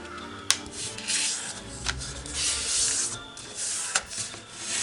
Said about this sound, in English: let's fold it in half, diagonally